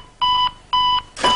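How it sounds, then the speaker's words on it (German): A volunteer fire brigade radio pager sounds two long, loud electronic beeps, each steady tone lasting about a third of a second, and a third beep starts just as the clip ends. "wenn dieser Funkmeldeempfänger piepst, dann ist es soweit"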